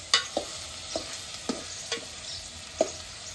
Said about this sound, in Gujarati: હવે મિક્સ કરી નાખશું